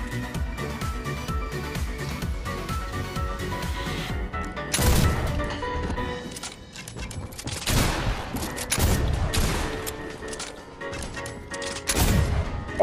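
Flintlock pistol shots in Fortnite come as several loud, sharp blasts at irregular intervals over continuous game noise, close and punchy, with no talking heard.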